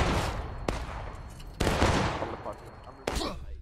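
Volleys of musket fire in the War of Rights game, three sharp broadband cracks spaced about a second apart with rolling echoes, over a busy battlefield din and faint voices.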